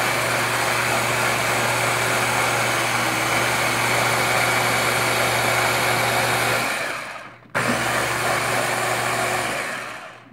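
A blender whirs steadily at high speed, blending an almond and banana smoothie, then cuts out briefly, restarts for a few more seconds and winds down.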